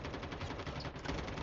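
Rapid automatic gunfire from Call of Duty Mobile, a steady stream of quick shots at moderate, slightly muffled level lasting the whole moment, no talk.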